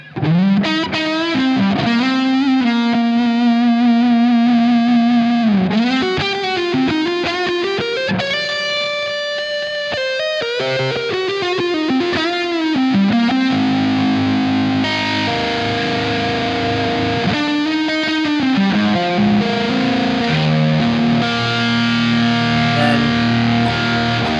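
A loud, heavily distorted electric guitar plays sustained notes and bends, thick and saturated, with no talking.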